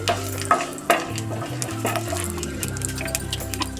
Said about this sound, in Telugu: ఆయిల్ హీట్ అయిన తర్వాత అందులో మనం తాలింపు గింజలు వేసుకొని వేయించుకుందాం